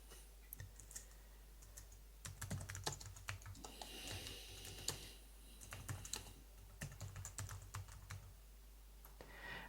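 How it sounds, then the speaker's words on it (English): Keys on a computer keyboard are tapped in quick irregular bursts to enter an email subject line, soft close clicks with brief pauses, heard alone at low volume. "we can key in our new subject line at the top here"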